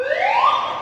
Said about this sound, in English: all these like fire alarms are going off